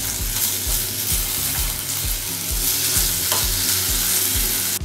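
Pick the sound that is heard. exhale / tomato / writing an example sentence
tomato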